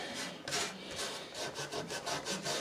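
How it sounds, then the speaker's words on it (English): Wood chisel lightly scraping across backer board to level a buckled spot, a series of short raspy strokes with uneven rhythm, close and fairly quiet. "Take your wood chisel and just kind of lightly scrape"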